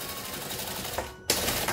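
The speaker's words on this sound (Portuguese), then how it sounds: "Passar uma costurinha de segurança." A sewing machine hums close and steady while stitching a short safety seam, breaks off for a split second, then resumes at a similar pace.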